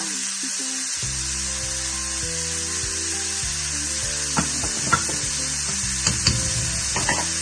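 Cabbage with salt stirred in a hot pan for a Kerala coconut thoran: a steady close sizzle runs throughout, with a few sharper scraping stirs toward the end and no talking.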